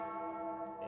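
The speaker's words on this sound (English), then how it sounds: "And already those bells going in the background." Bells ring steadily in the background before a stock car race at Darlington in the video game iRacing, forming a sustained, ringing tonal wash that fills the whole moment at moderate volume.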